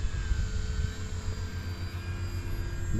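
A small model plane's engine drones steadily overhead, a continuous buzzing whine that stays at an even level throughout.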